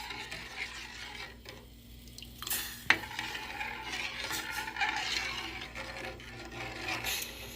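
Spoon stirring sugar into red wine with cherries in a bowl, giving soft continuous scraping and rubbing with one sharper clink partway through, close and quiet with no talk.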